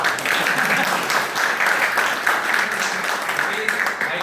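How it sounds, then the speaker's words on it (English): Audience applause at a Toastmasters-style Independence Day meeting as the timer comes up to give his report, a steady dense clapping that holds for about four seconds with some voices mixed in. "No clap for timer?"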